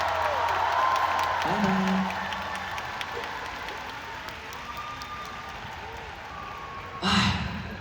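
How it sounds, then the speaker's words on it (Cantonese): A concert audience at a live show applauds and cheers, a broad wash of clapping that fades after a couple of seconds, with a brief louder burst near the end and a voice speaking briefly over it. "俾啲掌聲"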